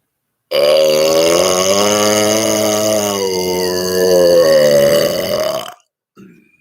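A long, loud, quiet-toned burp pushed up in one sustained voiced stretch, rising slightly toward the end before cutting off, followed by a short faint tail.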